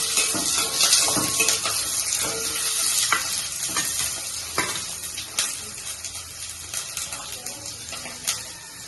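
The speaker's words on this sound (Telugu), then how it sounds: "ఉల్లిపాయ ముక్కలు పచ్చిమిరపకాయ ముక్కలు వేసుకుంటాం" Onion and green chilli pieces frying in hot oil in a grandmother-style home kitchen, a close, bright sizzle with irregular stirring clatters and scrapes that fades slightly toward the end.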